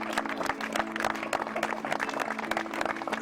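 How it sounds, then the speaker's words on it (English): A roomful of people clapping for a college lacrosse team at its season awards gathering, steady and moderately loud throughout with a faint tonal hum running beneath. "I would like to have my guys give all of you a round of applause"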